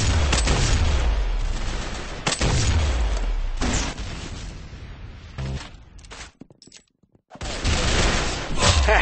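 Gunfire in the online shooter video game Arsenal, with sustained loud bursts of shots and booming blasts that repeat in waves, a brief dip to near silence, then heavy firing again, close and continuous.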